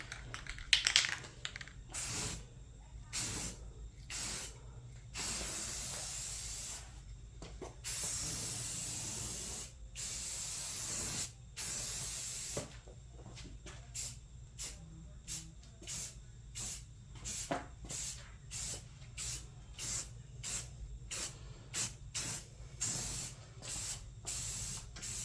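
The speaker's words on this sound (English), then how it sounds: "Primer time for the hood." Spray can laying primer onto a car hood, a Toyota Tercel wagon: long steady hissing passes broken by short gaps, then a run of rapid quick bursts, close and alone.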